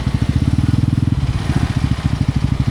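A KTM motorcycle on a mountain ride toward Adi Kailash, its engine throbbing in a steady, fast low pulse close by, loud and even throughout with slight rises in revs.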